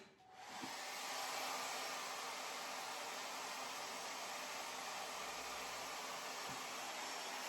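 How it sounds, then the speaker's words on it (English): A blow dryer starts up and runs steadily with a constant whooshing roar, close and continuous throughout, drying chalk paint on furniture. "Now hit that with a blow dryer."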